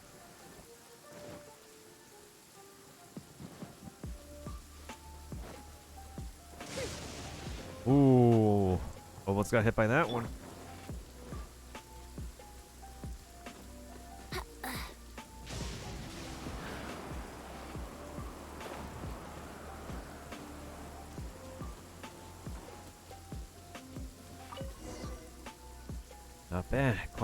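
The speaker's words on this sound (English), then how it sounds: "Oh, wow, it's a rainy afternoon. How pleasant." Steady rain pours in Genshin Impact on a rainy afternoon, a continuous hiss of falling drops throughout with a few louder crashes and rumbles, while a person talks over it.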